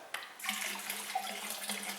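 Beer from a home fermenter pours into a glass, a steady close splashing stream that runs without a break, with a faint low hum underneath and no talk.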